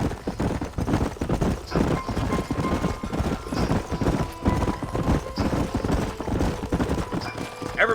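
Horses' hooves clip-clop steadily in the Western game Red Dead Redemption, a group of riders moving at a brisk, even pace with close, continuous hoofbeats under outdoor ambience.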